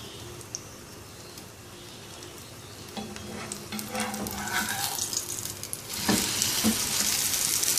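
An omelette of brown-bread sandwich batter frying in a pan, a gentle sizzle that swells louder and hissier over the last couple of seconds, with scattered light scraping clicks.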